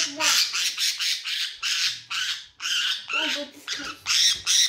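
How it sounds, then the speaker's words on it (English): A pet budgie squawks in a rapid series of short, harsh, bright bursts, close and fairly loud, with brief gaps between calls. "Ended the video properly with a budgie flying to my arm."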